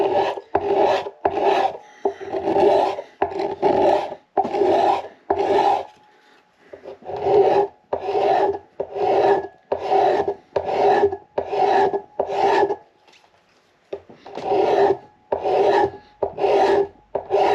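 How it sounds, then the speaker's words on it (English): A tool shaves wood from the neck of a 1937 Martin D18 acoustic guitar in about a dozen rhythmic rasping strokes, each under a second. The strokes are close and clear, with short pauses and one longer break. "Now I'm shaving quite a bit of wood."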